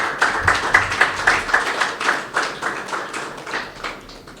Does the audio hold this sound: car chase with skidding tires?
no